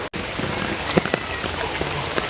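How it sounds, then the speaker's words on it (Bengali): Heavy rain falls steadily on surfaces around a home, a dense, continuous patter with a few louder drips standing out, heard alone with no talking. "সকাল থেকে যে ধূপ বৃষ্টি হয়ে হইতেছে"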